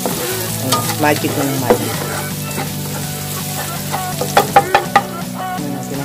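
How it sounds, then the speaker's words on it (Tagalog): Garlic sautéing in a pan while a dish of chicken tinola is being cooked, a steady close sizzle with stirring and scraping throughout, several sharper clacks near the end, and a faint voice briefly in the background. "Magigisa na tayo. Lagyan natin ng bawang."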